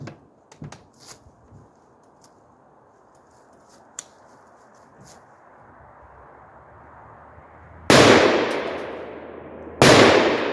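A Palmetto PA-10 Gen3 AR-10 rifle fired at a target 200 yards out, two sharp loud shots about two seconds apart that ring out and decay, following a stretch of faint rustling and ticks.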